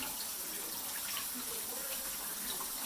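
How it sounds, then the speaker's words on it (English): Tap water runs steadily over a raw beef top sirloin roast being rinsed at a kitchen sink, a continuous close splashing hiss with no talk. "give that a nice little rinse. Wash all that blood off"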